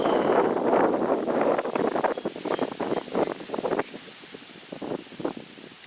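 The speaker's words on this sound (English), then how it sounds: "Hope the wind isn't making it so you can't hear." Gusty wind blows outdoors near a stand of trees, roaring broadband against the microphone in strong surges that ease off partway through, then rise again in shorter bursts.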